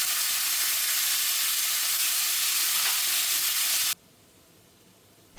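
Marinated lamb sears in shimmering hot oil in a wok, a loud, dense sizzle and hiss that runs steadily, then cuts off abruptly to near silence.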